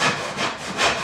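A crosscut hand saw cuts through wood in three close, rasping strokes, each rising and falling in a steady back-and-forth rhythm.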